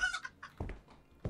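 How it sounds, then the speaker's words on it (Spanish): A chicken in the Hotel Renovator video game gives a few short clucks in quick succession, close and fairly quiet, with no talking over it. "Uf, una gallina en Nueva York, tío"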